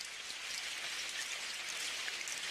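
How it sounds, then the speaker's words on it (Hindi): Rain pours in an animated cartoon as a steady, dense hiss of falling drops, with no voices over it. "अगर ऐसे ही बारिश होती रही तो धीरे धीरे हवाएं और तेज होंगी"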